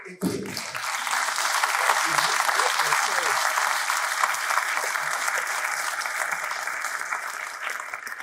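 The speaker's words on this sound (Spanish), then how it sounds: "estos aplausos me agigantan, me inflaman el ego" Sustained audience applause at a live presentation in Córdoba, a dense, loud, even roar of clapping after a brief sharp start, holding steady to the end.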